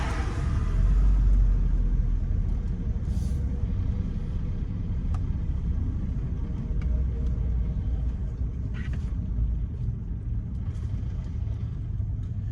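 A car drives through downtown Jackson, Mississippi, its engine and road noise a steady low rumble heard from inside the car, with a few faint clicks and no speech.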